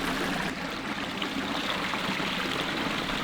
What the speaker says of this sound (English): look at this, little ball valve having a supplemental waterfall